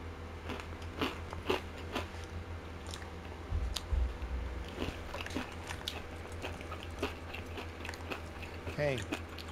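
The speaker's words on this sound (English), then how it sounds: "Sorry if you can hear my chewing. I'm just eating Takis." Someone eats spicy rolled Takis tortilla chips close to the mic, with irregular crunchy bites and wet chewing. Video game sounds from Call of Duty: Black Ops 3 play underneath.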